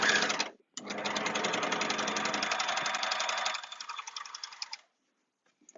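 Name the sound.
overlocker sewing machine stitching fabric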